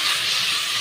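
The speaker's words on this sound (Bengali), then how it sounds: "এবার তেলের উপরে আমি একটা তেজপাতা, দুটো তেজপাতা ফেলে দিলাম।" Bay leaves dropped into hot oil after frying fish, a loud, close, steady sizzle and hiss with no talking.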